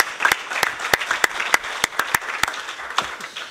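Scattered applause from a small conference audience, a dozen or so distinct claps ringing out in an uneven rhythm, fairly close and with no talking over it.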